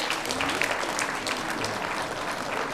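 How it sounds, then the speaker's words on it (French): Audience applause at a mayor's New Year address in a hall, steady close clapping from many hands filling the whole short stretch without a break. "On peut l'applaudir, oui, vous pouvez l'applaudir."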